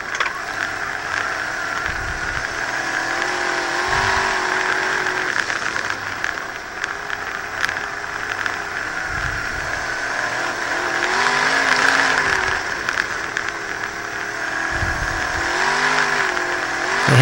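Race cars of about 600 horsepower at a New England track pass along a straightaway, their engines roaring loudly and continuously with rising and falling pitch as several cars go by in succession.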